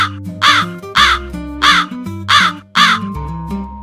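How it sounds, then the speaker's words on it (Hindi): A crow caws outdoors five times in a steady, evenly spaced series, loud and close, with no talking over the calls. "उसी वक्त बाहर कौवा चिल्लाता है।"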